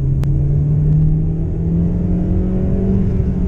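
An MG HS car engine revs steadily and loudly in second gear, its deep droning pitch climbing gradually toward 6,000 rpm and nearly 60 mph.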